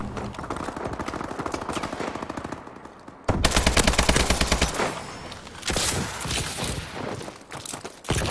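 Rapid, dense gunfire from an S12 shotgun and other weapons in Call of Duty, loud repeated blasts in fast bursts that break off briefly before another heavy volley resumes.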